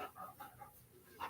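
A pet dog panting indoors, a few quick breathy puffs close to the microphone with a faint whine, brief and moderately quiet, no talking.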